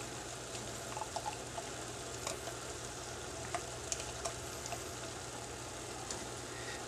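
A spatula stirs a full 8 ounces of Grey Poupon mustard in a pan, giving a soft continuous sizzle with faint scraping ticks, fairly quiet and with no talking.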